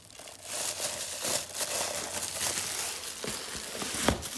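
Plastic bag and cardboard packaging rustle and crinkle while a box of 15oz sublimation coffee mugs is unpacked, a close, irregular run of crackling handling noises with no talk.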